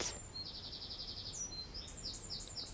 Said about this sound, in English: birds overhead